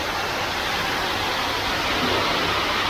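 Wet concrete pours into place at a house site, a dense, steady rushing wash that grows slightly louder toward the end, with no voices.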